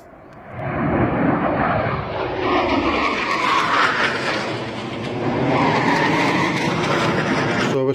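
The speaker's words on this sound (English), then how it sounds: "Typhoons are here now, here they go." Eurofighter Typhoon jets roaring through the Mach Loop valley in Wales, a loud sustained engine rumble that swells and holds across the whole stretch with shifting pitch as they pass.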